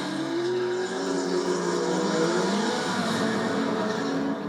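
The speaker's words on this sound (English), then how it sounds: "As we slalom through the containers, I pushed the Z06 hard to build on my slender lead." A Corvette Z06 sports car driven hard through a slalom between shipping containers, its engine note rising and falling steadily as it works through the turns, loud and continuous.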